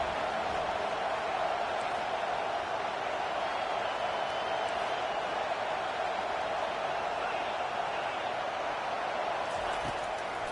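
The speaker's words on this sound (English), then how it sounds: "This crowd bringing an ear-splitting welcome to their visitors." Steady roar of a stadium crowd in a football video game, a loud continuous wash of cheering that fills the whole stretch without a break.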